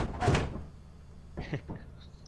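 A door opening in the video game Lethal Company, a loud mechanical thunk followed by a softer sliding clatter and a few short knocks, with low ambient hum in between.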